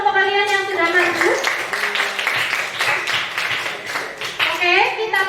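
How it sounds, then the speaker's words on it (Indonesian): Students in a classroom clap for a group, a dense round of applause from many hands. Children's voices shout and chatter over it and swell again at the end. "tepuk tangan untuk kelompok kalian yang sudah maju"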